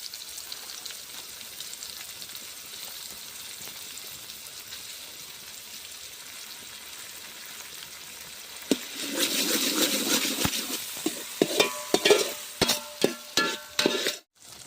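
Ginger garlic paste frying with tomatoes in a pan for a milky aloo sev shaak, starting as a low steady hiss, then bursting into louder sizzling with sharp clinks and scrapes of stirring near the end.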